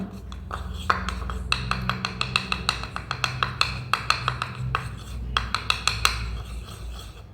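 Homemade face cream with a cut vitamin E capsule being stirred in a bowl, a spoon clinking rapidly and rhythmically against the sides, bright close taps repeating throughout with a faint background hum.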